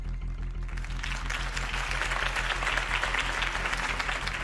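Crowd applause after a Harvey Dent campaign speech in Batman: The Telltale Series, steady clapping building over a low droning hum.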